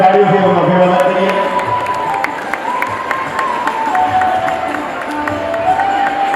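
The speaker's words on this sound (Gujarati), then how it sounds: "આપણે તાળીઓથી એમનું અભિવાદન કરીએ." Audience applause and crowd noise at a community felicitation event, a dense, steady wash of clapping and murmuring that carries on without a break for several seconds.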